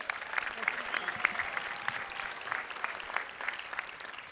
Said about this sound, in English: one more round of applause for Mr. Evans, please